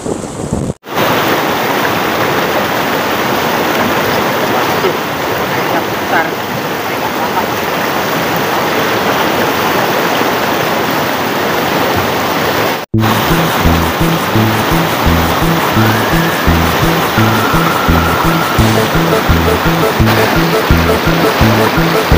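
A river stream flowing, a continuous broadband rush of water close by, with a brief dropout near the start and another cut partway through, followed by rhythmic thumping over the water noise.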